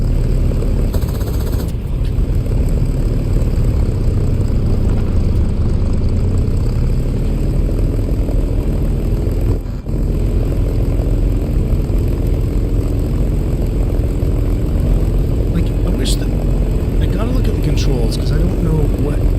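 A Sea Fury propeller fighter in War Thunder, its engine droning loudly and continuously throughout, with a person talking over it.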